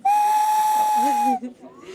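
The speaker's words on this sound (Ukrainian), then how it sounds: "ми зробили таку теж прикольну свістюльку. Вона вже може свистіти чи ще? Вона може свистіти." A small handmade whistle gives one steady, shrill tone lasting over a second, then stops, leaving faint movement and breath.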